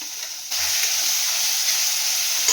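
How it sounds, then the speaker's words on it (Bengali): Garlic paste hits a pan of frying onion and tomato and erupts into a loud, steady sizzle that holds continuously, close by and with no talk. "এবার এটাকে আমি ভালো করে ভেজে নেব।"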